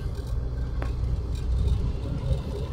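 A heavy vehicle overtakes on a highway between the city of Goiás and Itaberaí, giving a steady, loud low engine and road rumble throughout, with a brief knock partway through.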